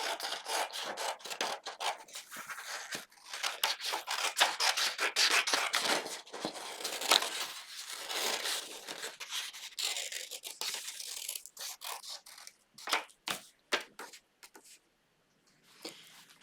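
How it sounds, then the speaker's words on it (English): Paper scissors cut out a paper flower pattern with quiet, close, rustling snips and rasping slides, in uneven bursts broken by brief pauses. "I'm going to cut it out with my paper scissors."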